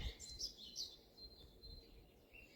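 Birds chirping and tweeting in the stillness around four in the morning, a few bright calls repeating close by over a quiet low hum, with no voices.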